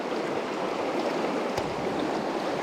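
A river stream rushes steadily, a constant broadband wash of flowing water close by with a faint splash midway, no talking.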